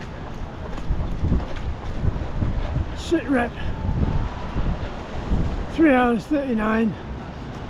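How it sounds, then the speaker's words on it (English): Strong wind buffets the microphone throughout in a constant low roar during the Nice–Cannes marathon, with someone speaking briefly over it. "Very windy."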